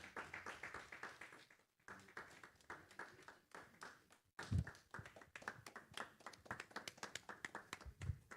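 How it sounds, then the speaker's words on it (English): A conference audience at a West Africa tech event keeps clapping in extended applause, a dense patter of hand claps with a brief lull before resuming, fairly close and steady. "That's a rather extended clap"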